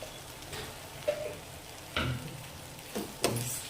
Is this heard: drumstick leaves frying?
yes